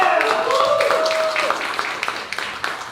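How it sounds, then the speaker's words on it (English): An audience at a panel event on child well-being claps in a dense burst of applause that thins into scattered claps, with a voice heard over it at the start. "One more round of applause for our panelists."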